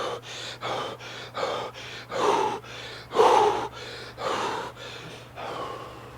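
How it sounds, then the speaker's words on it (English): Deep, rhythmic breathing during soft tissue work for emotional trauma healing, with about ten close, broadband breaths spaced evenly, a few louder gasping inhales standing out, and a steady low hum underneath. "I have to take the deep breaths to down-regulate my nervous system and quiet my mind a little bit."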